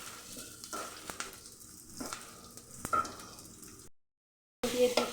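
Chopped tomatoes sizzle and crackle in a frying pan for an egg jhuri dish, a fairly soft, uneven frying sound with small pops, briefly cut to silence before the sizzle resumes.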